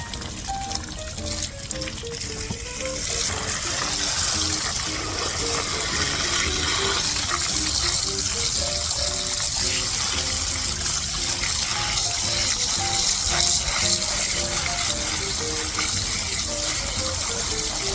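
Water gushes and flushes steadily through a rainwater tank's first flush diverter filter during rinsing, a continuous close hiss lasting the whole stretch, with faint tonal sounds in the background.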